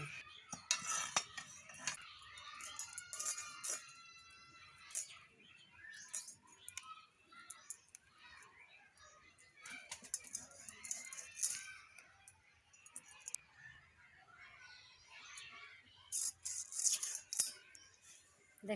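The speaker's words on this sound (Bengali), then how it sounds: "এখন আমি মাছটা কেটে নেব" Fresh fish being cut with a knife in a home kitchen, bursts of close metallic scraping and chopping clicks in irregular clusters with quiet gaps between them.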